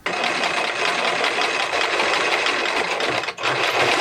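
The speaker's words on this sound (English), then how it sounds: "just take this to the machine and stitch at 1/4 inch all the way around here" A sewing machine stitches steadily around a round 3D cargo pocket on a utility vest, a close, continuous whirring hum with a brief pause near the end before resuming.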